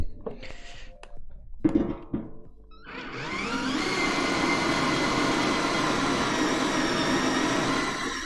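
A power drill cutting a countersink for a chamfered edge: after a few short handling knocks, the motor spins up into a steady, loud, close whine that holds for several seconds.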